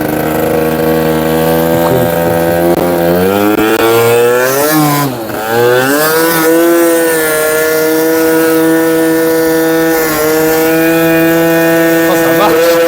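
An MBK Booster scooter engine, idle jet set too low, starts and runs with a loud, steady buzzing drone close by, its pitch dipping briefly before picking back up and holding.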